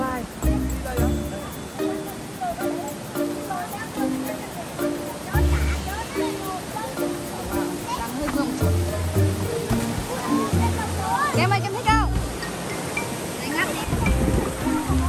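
A steady rush of falling water at the nine-tier waterfall in Gia Lai, Vietnam, runs continuously throughout under someone speaking and rhythmic background music.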